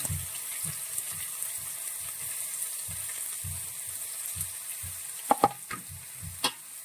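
Bitter gourd frying in oil with mustard seeds and dried chili, a steady soft sizzle with a few low bumps, then several sharp clinks of a utensil against the pan near the end.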